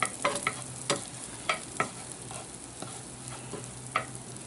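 Butter melts and sizzles in a Dutch oven as the base for a classic roux for German-style venison and wild hog meatballs. A steady, soft frying hiss runs throughout, broken by a few sharp clicks from stirring.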